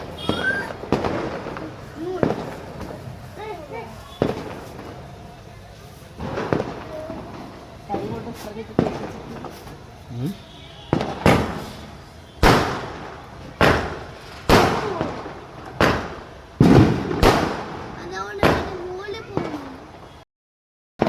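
Small Diwali firecrackers burst in a rapid string of sharp, loud bangs, some nearby and some farther off, with people talking between the blasts.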